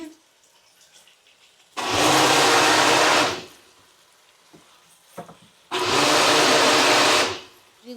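A mixer grinder runs in a home kitchen in two loud, roaring bursts of about a second and a half each, separated by a quieter pause with faint background noise.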